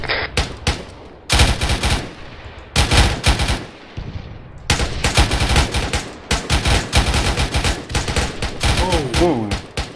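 Rapid bursts of automatic gunfire in an Arma 3 military firefight on Altis, loud and close, with repeated volleys separated by short pauses and a brief voice near the end.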